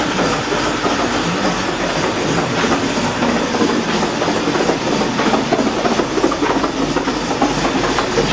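A 1961 Buick LeSabre V8 idling shortly after a cold start with the choke running a little rich; a continuous, loud, close rumble with a rapid uneven chug holds steady throughout without speech.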